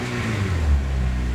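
A deep engine rumbles steadily, with a brief throaty rise in the middle, a modified 2002 Honda Civic Type R EP3 idling and revving close by.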